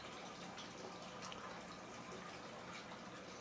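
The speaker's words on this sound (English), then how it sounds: "River's making noise." A river flows with a steady, broadband rushing wash that holds constant throughout. It is faint and distant-sounding, with no voices.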